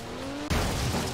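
Car tires losing grip and skidding in the racing game Forza Horizon 3, a sudden loud burst of tire noise and engine roar that cuts in abruptly after a steady engine tone.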